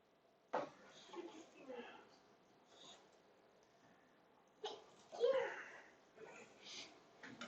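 A sudden sneeze bursts out near the start, followed by quiet murmuring and another sharp outburst later, with voices talking softly around it.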